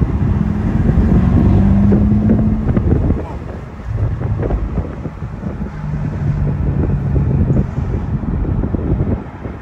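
A Corvette C7 Stingray accelerates in third gear, heard from inside the cabin as a deep engine drone that rises, dips at a gear or throttle change, then climbs again under heavy wind buffeting.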